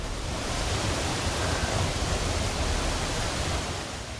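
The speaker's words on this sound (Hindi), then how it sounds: "मूसलाधार बारिश की वजह से सवाई माधोपुर के झरने भी उफान मार रहे हैं।" A waterfall in Sawai Madhopur, swollen after torrential rain, pours with a dense, steady roar of rushing water that stays loud and even throughout, with no other sounds.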